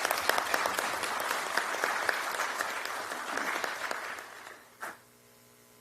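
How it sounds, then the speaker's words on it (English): Audience applause at a Prince Hall Slavery Remembrance Day program, steady dense clapping from a crowd for about five seconds before fading to quiet. "So let's give him another round of applause."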